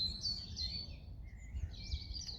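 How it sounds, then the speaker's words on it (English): Birds sing around a campsite in a quiet outdoor setting, several high chirping phrases rising and falling, moderately distant with a soft low rumble underneath and no talk. "hear the birds singing"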